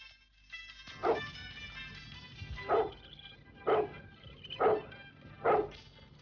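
Dogs bark in a series of about five sharp, separate yaps spaced roughly a second apart, moderately near against a quiet background, with no voices.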